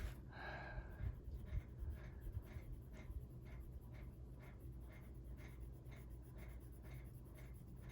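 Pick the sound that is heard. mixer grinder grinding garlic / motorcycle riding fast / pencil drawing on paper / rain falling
pencil drawing on paper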